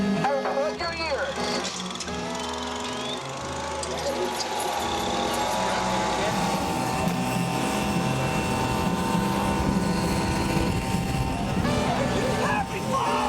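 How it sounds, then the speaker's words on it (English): A jet-powered bike engine roars continuously, a loud, dense whine and rumble that builds and holds for over ten seconds, with voices faintly mixed beneath. "they won't let us go before the jet bike"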